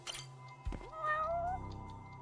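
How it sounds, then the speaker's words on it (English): One clear cat meow from the video game Judgment, a short drawn-out rising call heard close up against a quiet, low game background. "Oh, look, a cat."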